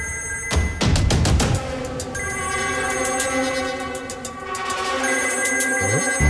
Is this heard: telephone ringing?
yes